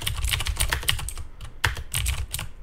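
Someone types text on a computer keyboard in a Linux desktop session, a close burst of quick, fairly loud keystrokes with a short pause before a few more taps.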